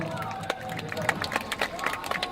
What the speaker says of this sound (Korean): 여러분 박수로 한번 맞이해 주세요